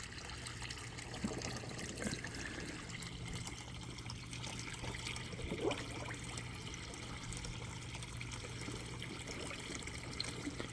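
Water and air bubble and trickle out of an overturned hot tub filter in a steady, close, continuous wash of gurgling liquid, with one brief louder splash partway through and no talking.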